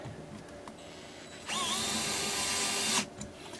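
A power drill drives a screw into a kiteboarding control bar during assembly, its motor whirring steadily for about a second and a half with a rising pitch, close and alone, then stopping abruptly.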